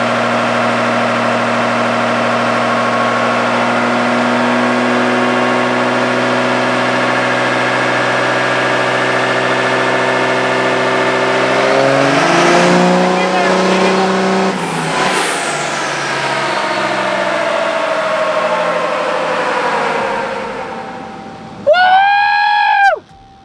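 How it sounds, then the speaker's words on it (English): A Dodge Charger at a high-horsepower dyno or drag pull holds a loud, sustained high-rev engine scream at close range. The pitch climbs, then drops away as the engine comes off the throttle, and a short sharp whine follows near the end. "That fucking Charger is screaming."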